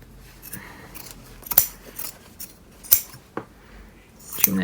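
Scissors trimming layers of quilted Tula Pink cushion fabric, a few sharp, separate snips spaced irregularly over a quiet background, close and crisp.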